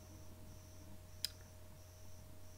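A single crisp computer mouse click, faint and close, standing alone against a quiet background hum.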